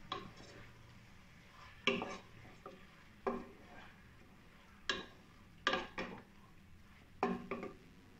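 Marinated chicken is stirred into biryani masala in a pot, a spoon scraping and knocking against the metal in a handful of separate clanks spread over a quiet background.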